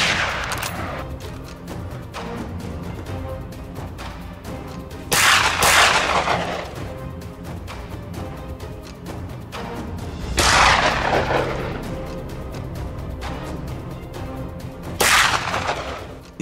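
Hunters' gunshots ring out across an open field, three loud, sharp blasts spaced about five seconds apart, each with a brief echoing tail, over a steady background rumble and no speech.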